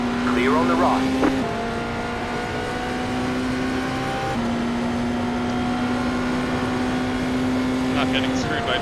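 Race car engines in iRacing simulator traffic hold a steady sustained drone throughout, with a higher engine note rising briefly near the start and end; a voice talks over it.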